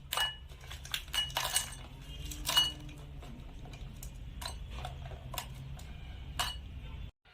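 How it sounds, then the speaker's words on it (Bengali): Raw crabs being dropped into a bowl, with a series of sharp clinks and knocks of shells against the vessel, irregular and close, spaced over several seconds against a quiet kitchen background. "এখন সব কাঁকড়া একটা পাত্রের মধ্যে করে নিয়ে নিচ্ছি।"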